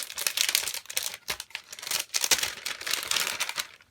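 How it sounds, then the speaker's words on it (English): Crinkling and rustling of scrapbooking embellishment packaging such as doilies, close and fairly loud, in dense irregular bursts with brief pauses throughout, no voice. "Sorry for the crinkling."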